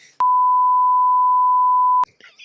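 A single steady censor bleep tone, loud and continuous for nearly two seconds, cuts cleanly into speech, with brief talk just before and after it.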